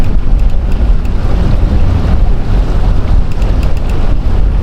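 A motorboat runs up a river channel, giving loud, steady engine rumble mixed with heavy wind and water rush throughout, with no talking.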